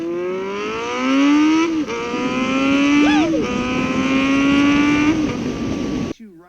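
Honda Nighthawk S motorcycle with loud exhaust pipes, its engine note rising and holding steady as it accelerates through several gears close by, with a brief sharp rise midway before cutting off.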